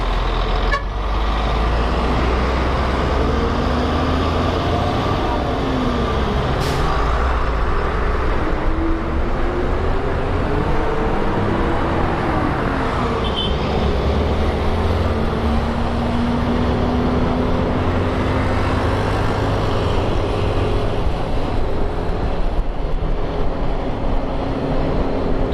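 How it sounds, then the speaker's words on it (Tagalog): Heavy night traffic of trucks, buses and cars on a crowded road in the Philippines, a continuous loud rumble of engines with occasional horn toots and passing vehicles rising and fading. "Sobrang dami na ng sasakyan."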